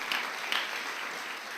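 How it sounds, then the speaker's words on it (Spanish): A church congregation applauds during a sermon, a continuous wash of clapping hands from many people, fairly distant and steady with a couple of sharper accents. "¿Cuántos dan un fuerte aplauso al Señor?"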